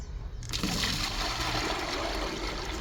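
Water drains from a basin after the plug is pulled, a steady rushing gurgle that starts abruptly and continues loud and close with no one speaking.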